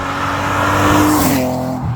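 BMW E36 328i with the M52 B28 2.8-litre straight-six engine running loud and close, a steady sustained drone with a rising rev toward the end, alone with no talk.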